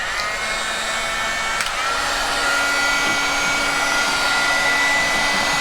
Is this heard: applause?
no